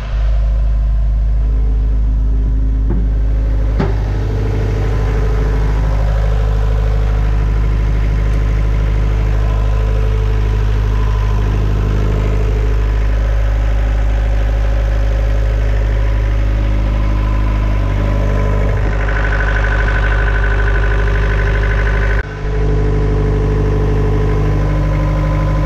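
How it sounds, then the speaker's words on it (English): A lobster fishing boat's engine idles in its engine room, a loud, steady low rumble with a constant drone, occasional clanks and shifts over its long run, no talking. "I'm going to the engine room right now and going to do my checks."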